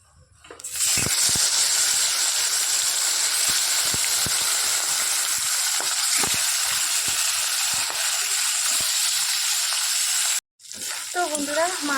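Fish rubbed with turmeric and salt hits hot oil in a wok, producing a loud, dense, unbroken hiss of frying with a few soft knocks, which cuts out abruptly near the end before returning more quietly.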